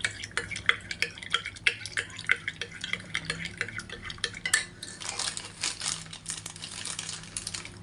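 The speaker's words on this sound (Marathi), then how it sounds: "हे दूध आहे, याला मिक्स करून देते तोपर्यंत." A spoon stirring milk in a steel vessel, rapid rhythmic clinks and taps against the metal, close and crisp, with louder scraping swirls toward the end and no voices.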